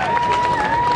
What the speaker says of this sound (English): you hear the crowd breaking into applause